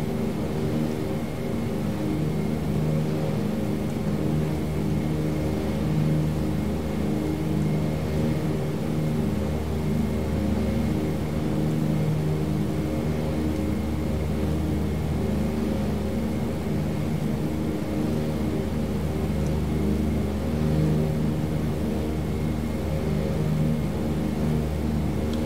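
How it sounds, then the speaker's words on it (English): Douglas DC-3 piston engines in Microsoft Flight Simulator 2020 on a Buffalo Airways flight from Yellowknife to Hay River hum in a steady, loud, continuous drone with a deep rumbling throb that holds unchanged throughout. "those engines sound awesome"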